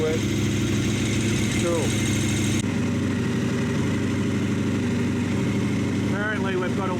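A KTM 1090 motorcycle engine idles steadily while warming up, a continuous close, loud rumble with even tone throughout, and a person speaks briefly over it.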